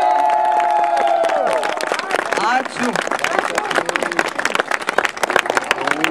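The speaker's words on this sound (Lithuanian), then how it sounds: "Garsesniais plojimais padėkojam dainininkam." Audience applause and cheering for singers at a school last-bell ceremony in Elma, breaking out as a held sung note fades, then dense clapping with a brief voice over it.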